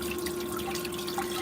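Water runs continuously over a gold pan during prospecting for black sands, with a close, steady trickling and splashing wash under a constant low hum.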